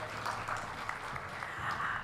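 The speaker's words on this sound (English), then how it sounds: "Sanjeev, a warm round of applause, please, ladies and gentlemen, for Sanjeev." A round of applause from the audience at a business conference session, steady crowd clapping held at a moderate level for about two seconds.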